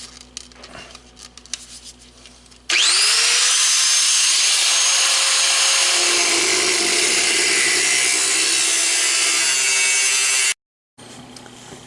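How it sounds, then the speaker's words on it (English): An angle grinder cuts into the metal side panels of a Land Cruiser being built as an overlander: after quiet handling noises it spins up into a loud, sustained high-pitched shriek, then cuts out abruptly. "I hate the switch on this grinder."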